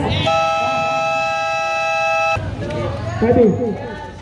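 A long, loud basketball game buzzer blares for about two seconds during a league semifinal, then cuts off as lively voices and crowd noise take over.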